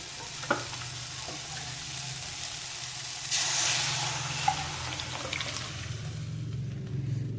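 Tamarind gravy goes into a pan of frying tomatoes and is stirred, a steady sizzle with a surge of liquid splashing midway, then continued bubbling and a few soft scrapes, close by and without voices.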